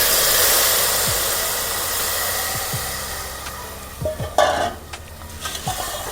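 Milk custard for sheer khurma cooks in a pan with a steady bubbling hiss, then a spoon stirs it with a few scrapes and knocks near the end; no talking.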